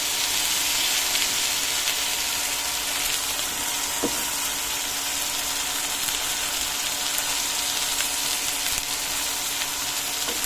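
Pieces of pangas fish belly sizzle steadily in hot oil, a close, dense crackle with a few faint pops and no pauses.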